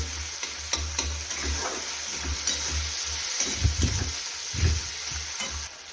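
Tomatoes sauté in a pan with a constant sizzle and repeated stirring scrapes and bumps, close and moderately loud with no talking.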